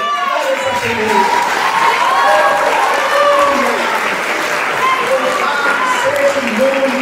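A church congregation applauds loudly and continuously for several seconds, with scattered voices calling out through the dense clapping.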